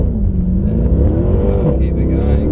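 A car accelerating at full power, its engine droning loud and close throughout with a rising rev, while speech is partly audible under the roar.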